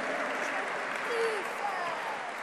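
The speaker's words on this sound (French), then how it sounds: "Je vous demande de les applaudir." An audience at a national teachers' tennis conference applauds in a steady, moderate wash of clapping, heard at some distance with a few voices faintly mixed in.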